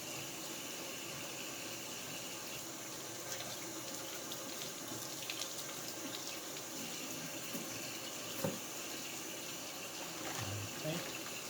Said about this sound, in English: Rinse them off with any debris.